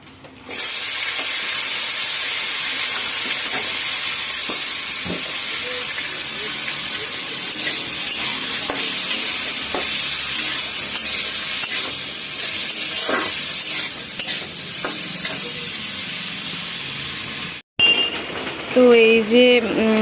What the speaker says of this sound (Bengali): তো এইদিকে উচ্ছে আলুটা ভাজবো আর কি